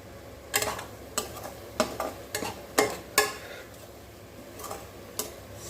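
Pirandai thokku with kodampuli being stirred in a pan over a low simmer: a string of sharp scraping clicks at uneven intervals over a faint, steady background hiss, close by, with no voices.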